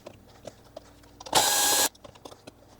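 A power screwdriver whirs in one brief, steady burst of about half a second, close by and alone, while removing screws from the board shrouds inside a Vizio M65-E0 television.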